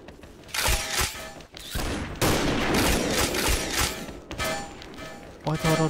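Rapid gunfire in the shooter game XSHOT, with loud, close bursts of automatic shots that run almost without pause and break off briefly a couple of times.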